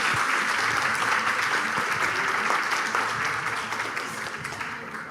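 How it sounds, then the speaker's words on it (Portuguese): Sustained audience applause fills a forum hall on cannabis treatment, dense and steady before easing slightly toward the end, with no talking over it. "Uma salva de palmas, galera."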